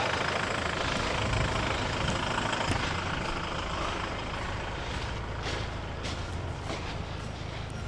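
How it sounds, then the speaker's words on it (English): A 6-ton expedition truck's engine idles steadily at close range, a dense continuous rumble with broadband roar; storm wind on Ireland's Atlantic coast may blend in, and no one speaks. "I'm leaving the engine run"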